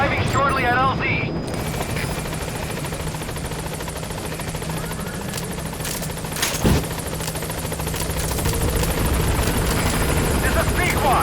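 A support helicopter in Metal Gear Solid V: The Phantom Pain arrives at a landing zone. It gives a loud, steady rotor and engine roar across the whole stretch, with a brief burst midway.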